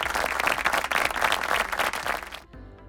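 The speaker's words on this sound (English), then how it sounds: "Let's give a huge round of applause," A large audience of HR professionals at an IHRC event gives a dense, steady round of applause for the Food for Life Trust speakers, which stops abruptly near the end and leaves a quiet room.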